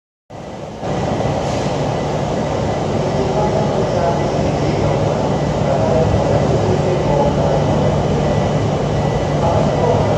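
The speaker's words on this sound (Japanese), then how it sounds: "列車到着です。" A commuter train on the Ueno-Tokyo Line rolls into a platform at Tokyo Station at night, a steady loud rumble and hiss of wheels and motors running unbroken after a sudden onset, with station announcements faintly underneath.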